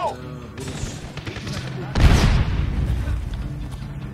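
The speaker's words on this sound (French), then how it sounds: "Vaudou, balance une grenade là-dedans." A grenade detonates in the Medal of Honor campaign, a sudden loud booming blast that rolls into a rumbling tail amid surrounding gunfire and game noise.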